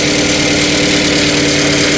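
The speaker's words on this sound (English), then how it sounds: "Seems to be idling pretty well, so we're going to start." A car engine idles steadily during a tune-up, a close, even, continuous rumble with a low throbbing pulse and no talking.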